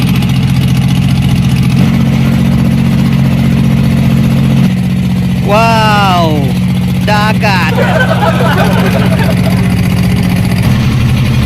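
A small service boat engine drones steadily and loudly throughout an island-to-island trip at sea, a constant low rumble with slight shifts in pitch, while people's voices break in briefly over it.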